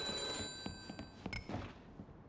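A telephone rings in The Godfather video game, a few short bright trilling bursts that are fairly faint and mixed with other quiet game sounds.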